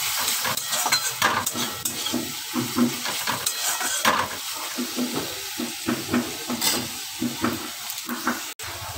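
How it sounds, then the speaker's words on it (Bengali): Chopped tomato being stirred into a pan of sizzling masala, with a steady close frying hiss, repeated scraping and stirring strokes, and a faint watery clatter near the end. "টমেটো কুচানোটা অ্যাড করে দেব, তাহলে টমেটোও গলে যাবে। দিয়ে একটু নাড়িয়ে দেব ভালো করে"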